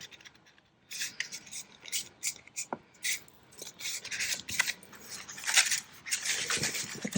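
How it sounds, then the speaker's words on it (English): A sheet of craft paper from a 6x6 pad is folded in half and creased, making close, irregular rustles, crinkles and scraping bursts that come and go with no talk. "I'm going to fold that paper in half."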